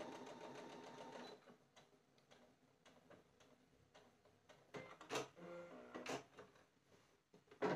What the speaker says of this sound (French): Je vais repasser une petite couture de sécurité.